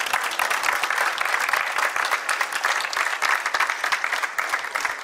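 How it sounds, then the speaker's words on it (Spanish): A crowd at a memorial ceremony honoring ancestors applauds after a roll call of names. The clapping is dense and steady, holding at an even loudness for the whole stretch. "Un aplauso"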